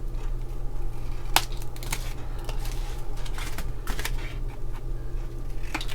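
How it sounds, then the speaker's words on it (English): Scissors snip the tabs off paper craft tags, a handful of sharp, close cuts spread across a quiet, steady background hum. "I am going to trim off the tabs, which is very easy"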